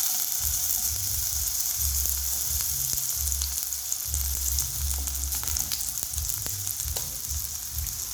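Chopped onion pieces sizzle and crackle in hot oil in a pan on a stove, a steady close frying hiss with occasional stirring clinks and low rumbles underneath.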